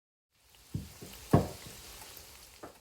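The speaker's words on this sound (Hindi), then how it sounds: "और मीडियम फ्लेम पे मैं इसे फ्राई कर रही हूँ" Aloo papdi frying in oil in a pan over a medium flame, a soft continuous sizzle broken by a few spoon knocks, with one louder clink near the middle.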